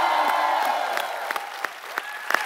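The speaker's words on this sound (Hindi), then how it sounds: "आप सबकी जोरदार तालियों के बीच बुलाना चाहूंगा" A studio audience at a stand-up comedy show claps to welcome guests, a sustained moderate round of applause with scattered sharper claps standing out.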